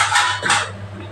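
Spoon stirring fried spices into fish pieces in a cooking pan, a brief close scraping and shuffling rustle with two soft swells.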